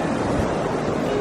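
Continuous rushing surf on sand along the California coast, broad and loud, water washing in without pause.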